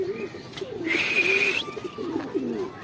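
Pigeons on a rooftop give soft, repeated throaty coos in a slow rhythm, close and clear, with a brief brighter whistling noise in the middle.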